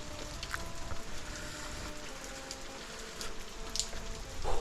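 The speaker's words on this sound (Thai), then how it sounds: "มันเย็นด้วยฝนตกปล่อยๆทุกคน" Rain falling steadily during a windy spell, a soft continuous patter and hiss at low level with a few brief sharper sounds, no voices.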